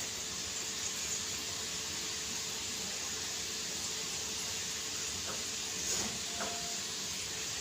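Salted shankarpali dough pieces fry in hot oil over medium heat, giving a continuous soft hiss and gentle bubbling at a steady level, with a few faint pops near the end and no voices.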